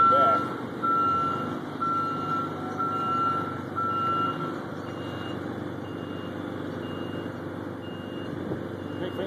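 Repeated backup beeps sound from a large truck reversing with an enormous trailer carrying a wind turbine base section, steady mid-distance alarm pulses over low engine rumble, with people talking nearby.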